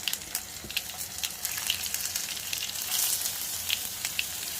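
Brinjal pieces hit hot tempering oil with a loud, crackling sizzle that keeps spitting and popping steadily throughout, no voices.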